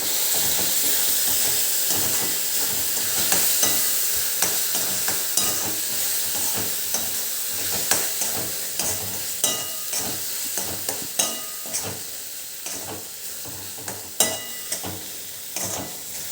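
Spices, onion, garlic, tomato and vegetables for chole sizzle steadily in a pan, with repeated scrapes and clicks of a spoon stirring them, close and continuous with no talking.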